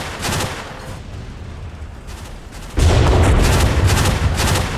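Gunfire from a Graviteam Tactics battle set in 1986 Africa, with 20 mm guns, heard as sharp bursts early, then a louder, sustained rattle of firing from about the midpoint to the end.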